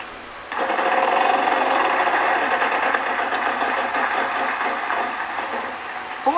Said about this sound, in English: I'll spin the wheel.